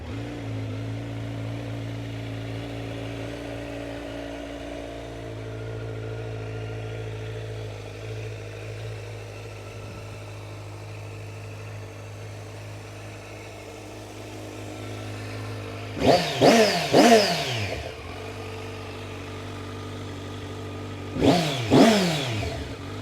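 A Kawasaki Z900 ABS motorcycle engine with about 10,800 km idles with a low steady rumble, then revs sharply in two quick bursts near the end, loud and close.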